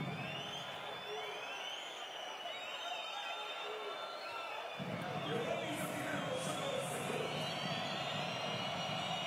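A basketball crowd in the stands at a Champions League game drones as a steady roar of whistling and jeering, growing louder partway through, while a commentator talks over it.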